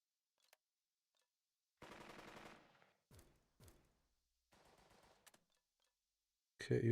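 Gunfire in the WW2 strategy game Burden of Command: a few short bursts of rattling shots with gaps of silence between, ending in a louder burst; no talking.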